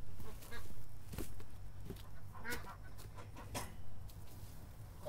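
Ducks honk and quack in short scattered calls, fairly close but soft, with a faint voice now and then among them.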